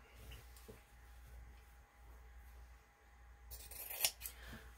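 Scissors snip through paper for a Christmas stocking junk journal, a few faint close crisp cuts near the end over a quiet room hum.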